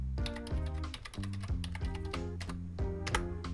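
A security key is typed on a keyboard to connect to a 4G SIM router: a steady run of close, distinct key taps in an uneven rhythm, with no voices.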